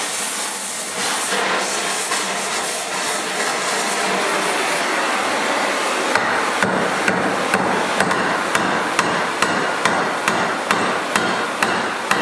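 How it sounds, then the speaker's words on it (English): Hammer blows on a heated bolt clamped in a vise, bent to fit a gas tank bracket on a Dodge A100, with steady hiss from the torch early on, then a regular series of sharp metallic strikes growing clearer toward the end. "give her a bit of a hammer and bend her over"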